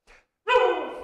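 A dog barks once loudly up close, a bright harmonic bark that trails off, after a short softer yelp; no other sounds around it.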